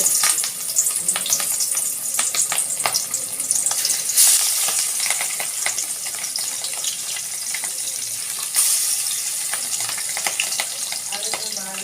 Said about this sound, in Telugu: ఫస్ట్ అయితే ఫ్రై చేస్తున్నాను ఫిష్ ఫ్రై